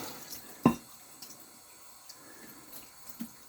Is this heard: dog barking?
no